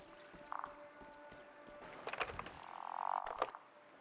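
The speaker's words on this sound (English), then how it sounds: "It's a croaking frog." A frog croaks in a video game, a few quiet trilling croaks spaced over a few seconds amid soft ambient pops and rustles, with no speech.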